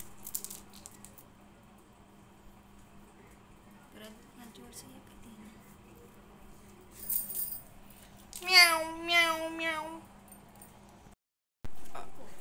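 A toy cat gives a wavering electronic meow, a brief warbling call that rises and falls near the end. Quiet rattling and handling noises of clay and craft toys come before it, close and fairly soft.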